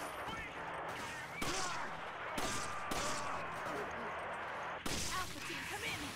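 Gunfire in Resident Evil 5 co-op, several loud sharp shots spaced irregularly over a noisy background, with voices talking in between.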